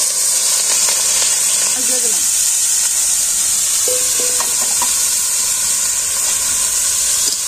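Steady loud sizzling of small mola fish frying in a hot pan, continuous and close, with faint clinks and a brief voice in the background.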